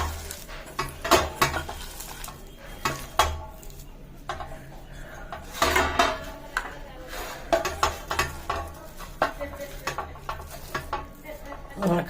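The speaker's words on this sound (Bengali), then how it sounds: "আবার সামান্য নুন দিয়ে আর একটু ভালো করে মেখে নেব" Gourd peel pakora batter being mixed by hand with salt, giving soft wet squelching and scraping against a bowl in irregular close bursts, with occasional clinks.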